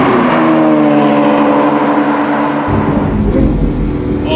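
Lamborghini Aventador engine revving and accelerating hard, a loud steady roar with climbing harmonic bands that drops into a deeper, heavier drone partway through, heard close from inside the car with no talk.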